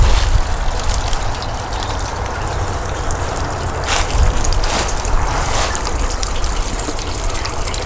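Water pours and splashes continuously through a copper fountain of cattails and reeds, a close, steady gushing trickle with occasional brighter spatters and no voices.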